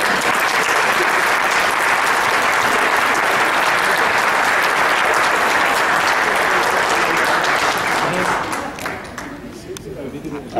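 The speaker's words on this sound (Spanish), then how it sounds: "Habría partido antes, pero como estaban aplaudiendo," Sustained audience applause at a book launch, a dense, loud wash of clapping from the room that holds steady for several seconds before fading into scattered claps near the end.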